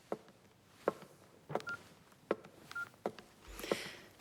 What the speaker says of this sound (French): t'étais en train d'envoyer un message avec ton portable?